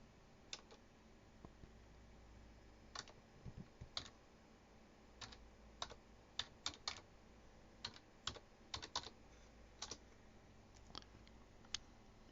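Computer keyboard being typed on to enter a login password, with scattered individual keystrokes that cluster into quick bursts over a faint steady hum, fairly close and quiet.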